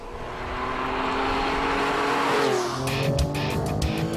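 A Porsche 911 4S sports car with a horizontally opposed engine accelerates hard, a loud sustained engine roar rising in pitch through a gear change, with a brief burst of tire noise near the end.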